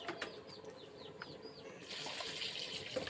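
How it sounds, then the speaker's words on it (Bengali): Potatoes being washed under running water, a faint steady rush of flowing water with some splashing and a few soft chirps near the start, no talking. "আলু দিয়ে আমি ভালোভাবে ধুয়ে নেব"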